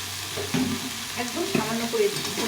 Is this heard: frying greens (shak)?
yes